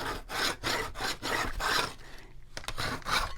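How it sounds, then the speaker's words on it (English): A scraper rasps paint off a wooden barn-door porch shelf being distressed for a farmhouse look, in steady repeated strokes about every half second, close and fairly loud, with a brief pause near the end. "Okay, so I'm just scraping it all off,"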